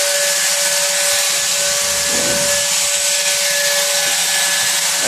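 A cut-off saw converted into a blade grinder runs with a steady high motor whine, while a blade rasps briefly against the wheel partway through.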